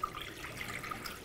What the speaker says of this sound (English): And then I'll put in 2 cups of water.